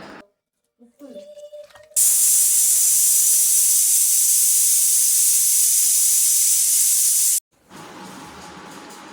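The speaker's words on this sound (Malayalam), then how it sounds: "എല്ലാം കൂടെ നന്നായി മിക്സ് ചെയ്ത് കുക്കറിൽ 4 വിസിലടിക്കുക" Loud, steady steam hiss from a pressure cooker whistling while beef curry cooks, a continuous blast lasting several seconds and cutting off abruptly, with quieter kitchen sounds before and after.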